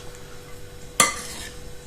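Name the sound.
spoon stirring cheese, oil and pepper filling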